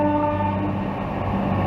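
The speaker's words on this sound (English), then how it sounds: "There goes the train to Chester and Llandudno." An Arriva Trains Wales Coradia class 175 diesel train departs toward Chester and Llandudno, its engine drone loud and steady with tonal humming throughout.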